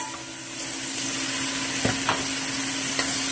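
Sweet pepper, onion, garlic and bacon sautéing in a pan, a steady close sizzle and frying hiss with a few light clinks of stirring.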